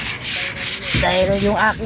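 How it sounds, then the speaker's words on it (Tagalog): Hand sanding with sandpaper during a gutter and repaint job, producing continuous raspy rubbing strokes up close, with someone speaking over the scraping partway through. "Kaya liha muna kami mga idol."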